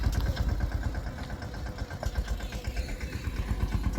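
A diesel tractor engine chugging at idle nearby on a farm, steady low rhythmic thumping with no voices.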